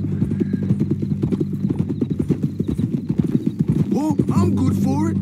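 Horse hooves clip-clop in a steady, close rhythm in Red Dead Redemption 2 while a captive rides tied on horseback, with someone talking over the hoofbeats and a brief whinny near the end.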